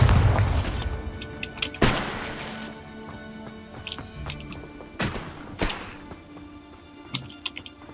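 Bombarda blasting spell going off in Hogwarts Legacy, several sharp booming impacts spaced a few seconds apart, each followed by crumbling debris and tinkling game effects, loud and close with no talking.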